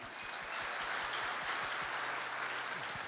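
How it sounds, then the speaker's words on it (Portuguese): A church congregation claps for the production volunteers at a Bible teaching service, a steady, fairly soft wash of applause that holds evenly through the whole stretch with no voices over it. "Vamos aplaudir o pessoal ali, ó."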